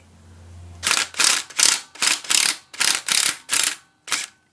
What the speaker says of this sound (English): I'll just use the Mr. Impact gun here.